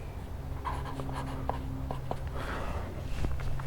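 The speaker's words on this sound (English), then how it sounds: "I take a Sharpie, like this is the extra oil that I have, and I write on it" A Sharpie marker squeaks and scratches across the surface of a plastic oil bottle in a motorcycle workshop, sounding as short, close strokes against a low background hum.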